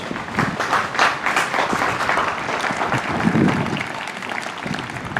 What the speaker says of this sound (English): Just give these two gentlemen a nice round of applause.